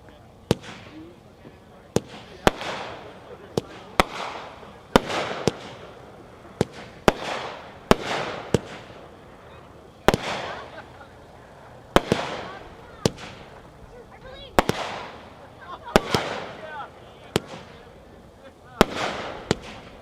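Mad Ox Reaper Drone aerial firework cake, 19 shots, firing a steady series of sharp shots, each bang followed by crackling bursts, about nineteen reports over twenty seconds.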